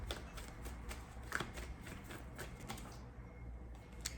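Tarot cards being shuffled and pulled from the deck, a quiet, close run of soft papery riffles and flicks in quick rhythmic bursts, with a sharper snap near the end.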